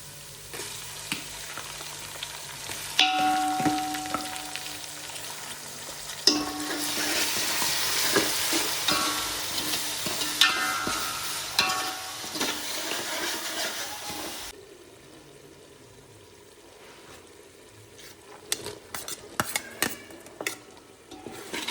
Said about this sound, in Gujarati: પછી ડુંગળી અને મરચાં વંગાર કરી દેવું